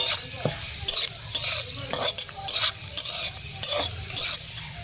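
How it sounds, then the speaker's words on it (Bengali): Bay leaf and garam masala sizzle in hot oil in a frying pan while semai vermicelli is being made, with a steady fry hiss broken by repeated bursts of spoon stirring and scraping. "এবার আমি তেজপাতা দিয়ে দিলাম, গরম মশলা দিয়ে দিলাম।"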